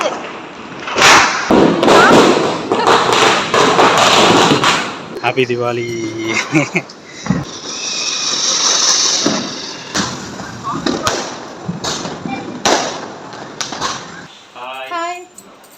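Diwali firecrackers go off in sharp, scattered bangs and thuds, mixed with people talking and a festive, busy background.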